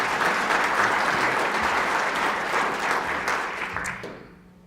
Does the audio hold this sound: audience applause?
yes